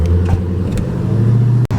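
A passing car's engine drones close and loud with a steady low hum that rises slightly in pitch, ending with a sharp click and brief cutoff.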